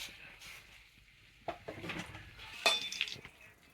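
Cumin seeds hit hot oil in a home kitchen pan, giving a soft sizzle with clinks of metal utensils and pan, two sharper knocks standing out near the middle and end.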